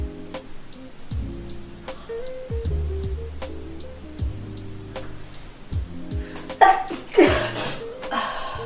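A girl sneezes during a Covid-19 nasal swab test, one or two abrupt, forceful bursts near the end, after a stretch of soft background music and faint noises.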